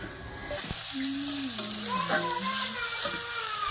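Food fries in a pan with mustard oil, a steady close sizzle and crackle running throughout, with faint tonal warbling sounds in the background.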